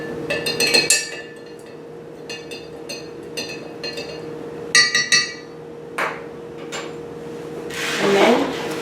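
Vinegar and salt stirred with a utensil in a glass jar, giving quick, bright clinking taps against the glass in uneven bursts, followed by a softer swirling rattle near the end.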